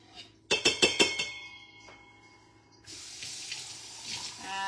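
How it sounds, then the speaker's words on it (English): Water from a tap runs into a pot for a pot roast after a few sharp metallic clinks, then a steady, close hiss of filling water continues to the end. "I'm putting a can of water in, okay?"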